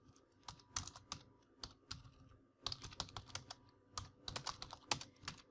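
Close, quiet typing on a computer keyboard while writing PHP code, with irregular bursts of rapid key clicks and brief pauses between them, no talking.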